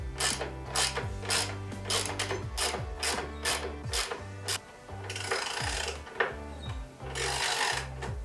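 A hand ratchet tightening nuts on a Minn Kota Raptor trolling motor mount on a Vexus AVX boat, close rhythmic clicking strokes in quick bursts with brief rubbing pauses between.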